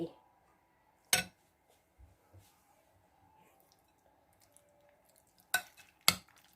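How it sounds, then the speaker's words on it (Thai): A shrimp salad with sautéed tomatoes and balsamic sauce tossed in a bowl, heard as a few sharp utensil clinks against the dish separated by quiet stretches with faint soft squishing. "แล้วเราก็คลุกเคล้ากันอย่างนี้นะคะ"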